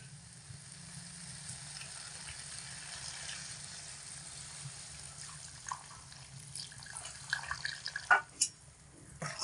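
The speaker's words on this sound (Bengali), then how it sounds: "তো এবার এর মধ্যে আমি দিয়ে দেব পরিমাণ মতো জল।" Water is poured into a pan of soybean curry, a soft steady rush and sizzle at low level, ending with a few louder splashes and utensil clinks.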